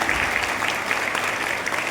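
Youth parliament audience giving a round of applause for a guest, dense continuous clapping from a crowd filling the room, loud and even throughout the short burst.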